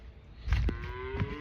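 Cattle in a barn pen give a low, fairly close moo lasting about a second, with a few soft thumps and shuffles around it.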